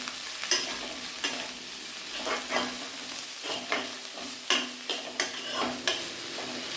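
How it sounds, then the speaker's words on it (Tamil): Onion and green chillies sauté in a pan for a poori masala, a steady close sizzle broken by rhythmic scraping strokes of a spoon about every half second. "பெரிய வெங்காயம், பச்சை மிளகா, ஒரு 3 பச்சை மிளகா போட்டுக்கலாங்க. வதக்கி விட்டுக்கலாம்."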